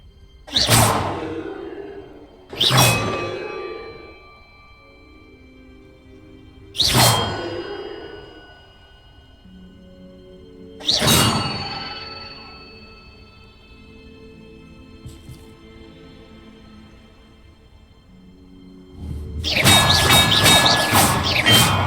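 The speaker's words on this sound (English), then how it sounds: "Perhaps the map contains clues about the order I'm supposed to ring the bells in." Large bells ring in a Hogwarts Legacy puzzle, four separate heavy metallic strikes spaced several seconds apart, each decaying slowly, followed by a denser burst of clanging toward the end, with no talk.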